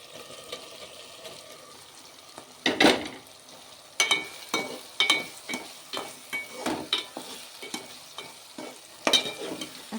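Bottle gourd pieces stirred into a tomato curry in a pan, with a steady sizzle beneath a run of close, sharp spoon scrapes and clatters that come every second or so, with no talking.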